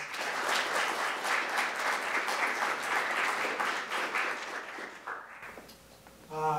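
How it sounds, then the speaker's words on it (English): Sustained audience applause in a conference room at an academic mathematics meeting, steady clapping for about five seconds that fades out, then a voice begins speaking. "I think we owe him a little round of applause"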